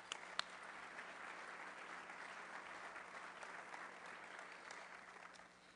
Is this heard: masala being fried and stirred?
no